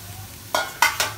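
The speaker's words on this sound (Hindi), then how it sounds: "अब मैं इसके साथ साथ मटर जो है इनको फ्राई करूंगी" Green peas frying in a pan for a mixed vegetable sabzi, a soft sizzle broken by three quick, loud stirring scrapes close by, with no talking.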